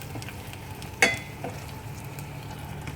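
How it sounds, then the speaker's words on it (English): Tomatoes dropped into a hot frying pan with curry leaves for okra sothi, heard as a brief sharp splash and clink followed by a steady low sizzle, no talking. "so now I'm going to add the tomatoes"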